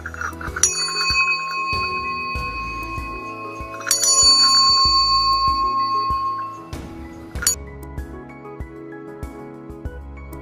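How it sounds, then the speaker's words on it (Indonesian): A small bell rings in short, bright metallic strikes, two longer ringing tones around the start and middle followed by scattered lighter dings, near and clear with quiet gaps between. "Itu adalah bunyi lonceng."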